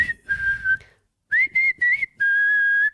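A person whistles a short melody up close, clear steady tones broken into several notes and phrases with brief gaps, ending on a long held note.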